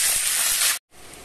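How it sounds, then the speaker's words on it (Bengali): Potatoes hissing loudly in hot oil in a pan, a dense steady sizzle that cuts off abruptly for a moment and then resumes more quietly, close up with no voices. "তো চলো আলুটা ভাজা যাক।"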